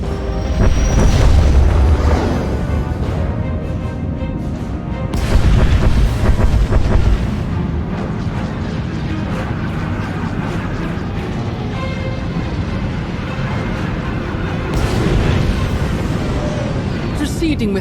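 Space fleet bombardment in Star Wars: The Old Republic booms out as heavy, rumbling explosions, loud and repeated in bursts at the start, middle and end over a continuous low roar.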